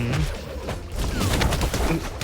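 Bomb explosions go off in the Flash Party fighting video game, a dense run of bursts and crashes layered over busy, continuous gameplay noise.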